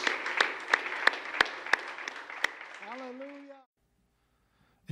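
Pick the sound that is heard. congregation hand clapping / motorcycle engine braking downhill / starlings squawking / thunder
congregation hand clapping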